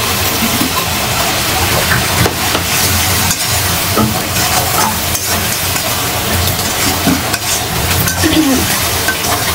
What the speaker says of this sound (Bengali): ইলিশ মাছ দিয়ে দিলাম।